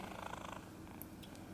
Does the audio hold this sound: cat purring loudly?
yes